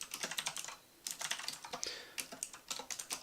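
Quick, light keystrokes on a computer keyboard as a short note is typed, irregular clusters of close clicks with a brief pause near the one-second mark.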